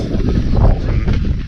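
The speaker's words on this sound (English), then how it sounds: "it's a little windy today, unfortunately." Steady wind buffets the microphone outdoors in a backyard, a dense low rumble with no speech, constant throughout.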